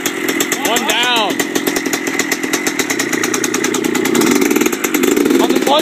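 A freshly rebuilt 1997 Yamaha Blaster 200 ATV engine runs on its first start, a loud, close buzzing drone that revs up and settles in steady pulses, with voices beneath it.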